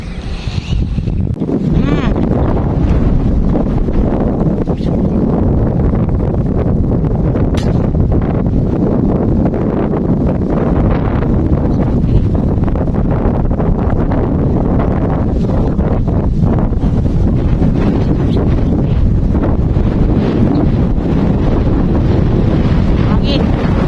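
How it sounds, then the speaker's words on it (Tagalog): Strong wind buffets the microphone at sea during a boat trip for airgun fishing, a constant loud low roar with gusting noise throughout. "Hangin."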